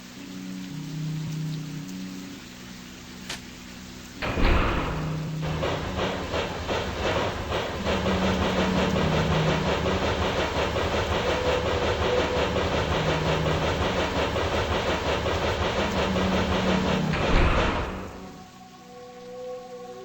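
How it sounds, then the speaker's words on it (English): A tram in the game OFF+ pulling through Zone 1: a steady rumbling, clattering ride with a dense rhythmic rattle of wheels, starting with a thud and ending abruptly, alone without voices. "Tramway number 1 is a very useful means of transport to get to the different areas of Zone 1"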